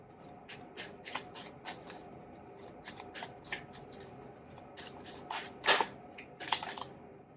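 Tarot cards are shuffled repeatedly in quick riffling bursts, close and crisp, with a few louder snaps near the end and no talking.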